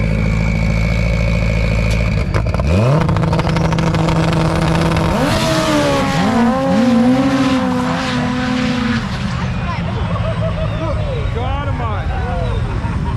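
Turbocharged race car engines at a racetrack built from a cornfield: one roars and climbs through revving pitch sweeps, loud and close, with a second engine whining alongside and voices talking over it.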